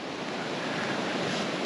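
A massive river flowing past a campsite on the road to Alaska, a steady, broad rushing wash of water that holds even and continuous, with a faint hint of wind, and no voices.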